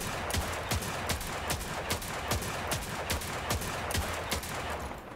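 Rapid, evenly spaced hand cannon shots in Destiny 2 with bugged recoil, about a dozen crisp cracks fired in a steady rhythm over a constant game background hum, with no talking.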